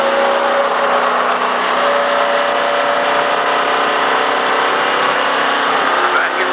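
NASCAR race car engine held at steady high revs on track, a constant droning roar throughout with faint tonal hum, no pauses.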